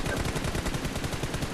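Rapid automatic gunfire in PUBG Mobile, a loud dense burst of repeated shots in fast steady rhythm, close and continuous throughout.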